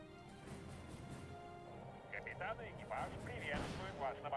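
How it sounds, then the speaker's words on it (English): Chinese rocket artillery in a war video game fires in a rapid cluster of sharp bursts and whooshing streaks, building louder toward the end over steady background rumble. "Beautiful Chinese rockets."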